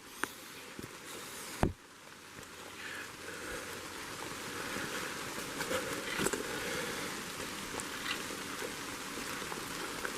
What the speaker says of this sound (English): Yeah, I like the rain.